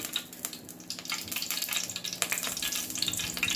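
Hot cooking oil in a stovetop pan for fish curry gives a steady crackling sizzle with scattered sharp pops, moderately close and continuous, with no talking.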